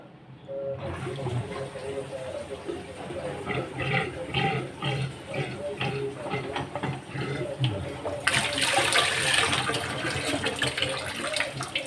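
Water drains from a kitchen sink just repaired of a leak, a continuous gurgling rush with a louder surge near the end, while someone speaks over it.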